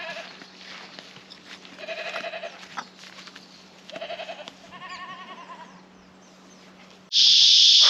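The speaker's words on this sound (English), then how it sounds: "Mum goat, 2 baby goats." A mother goat and two baby goats bleat in a camping area in the Capertee Valley, giving several short, wavering calls at a moderate distance, followed by a sudden loud burst of noise at the end.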